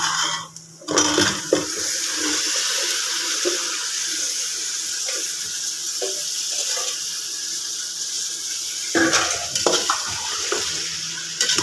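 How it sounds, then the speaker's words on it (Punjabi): Cauliflower florets dropped into a hot pan with spices, a sustained sizzle with stirring scrapes and clatter, sharper bursts near the start and toward the end, no talk. "ਹੁਣ ਆਪਾਂ ਪਾ ਦਿੰਨੇ ਵਿੱਚ ਗੋਭੀ"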